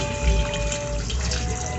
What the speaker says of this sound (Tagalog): magdadagdag tayo ng kaunting tubig